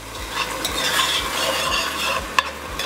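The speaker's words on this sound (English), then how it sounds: "we're gonna deglaze that pot with a little red wine right now" Red wine hitting a hot pot to deglaze it while cooking alligator sauce piquant, giving a steady close sizzle with faint stirring scrapes and a soft clink near the end, no talking.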